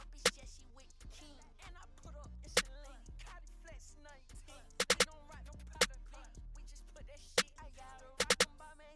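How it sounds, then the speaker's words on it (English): A second snare sample in a dark plugg beat built in FL Studio, cracking as sharp, bright hits at irregular points, some in quick doubled or tripled bursts, over a looping melodic beat with a steady low bass. "Then I added another snare that would sound like this."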